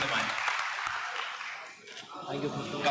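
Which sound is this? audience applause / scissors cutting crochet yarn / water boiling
audience applause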